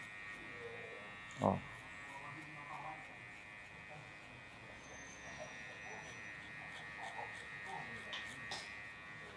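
An electric hair clipper cuts hair during a classic men's haircut, working down through the guard sizes. It gives a steady, close buzzing drone throughout, with a brief sharp knock and someone talking over it.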